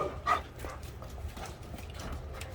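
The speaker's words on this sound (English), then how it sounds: "Diesel decided to start barking" A red Doberman named Diesel gives a few faint barks and whines from a distance, over a low background rumble.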